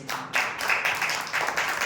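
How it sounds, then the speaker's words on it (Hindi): Congregation clapping along during a Hindi-language church sermon, a steady rhythmic patter of many hands filling about two seconds at moderate volume. "ताली बजा के प्रभु।"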